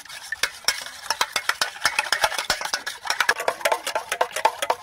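Eggs seasoned with salt and turmeric are beaten briskly in a bowl, a utensil clicking fast and unevenly against the sides, close and clear with no voices.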